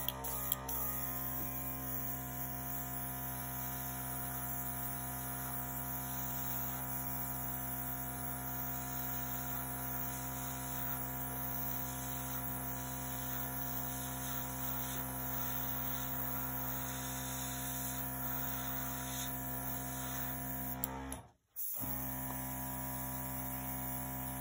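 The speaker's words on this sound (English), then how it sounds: "let's see what I can do with my air compressor." An air compressor blows acrylic paint across a Fall-themed Dutch pour, a steady loud hissing airflow running continuously with a brief cutout near the end before resuming.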